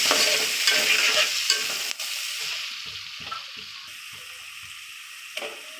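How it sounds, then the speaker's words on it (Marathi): Two long-sliced onions fry with cumin in a pan for an egg biryani gravy, a bright close sizzle with stirring scrapes early on that fades to a quieter, steadier hiss, a few utensil knocks, no voices. "कांदा दोन कांदे लांब लांब चिरून घेतलेले सगळा भाजून घ्यायचे"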